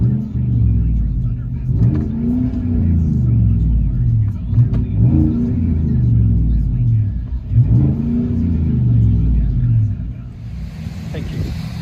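A 2017 Chevy Silverado 5.3L V8 with Black Widow Race Venom dual exhaust and 5-inch tips, heard from inside the cab: a loud, steady deep rumble that swells with repeated revs, then eases off near the end.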